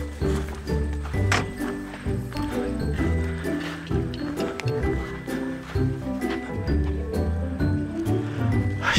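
Horses being herded over rocky ground give a steady run of hoof clops and knocks, with light jingling and rustling mixed in, fairly close.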